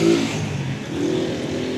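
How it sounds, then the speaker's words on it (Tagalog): Heavy road traffic of cars and motorcycles rolls past, an engine revving up close at the start before settling into a continuous roar of passing vehicles. "Take a look, heavy traffic, better walk."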